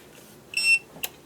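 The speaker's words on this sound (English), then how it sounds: "So now when we turn it on, we get a beep and we get a green light." An RC transmitter powers on with a short, bright electronic beep followed by a second quick chirp, close and clear against a quiet room.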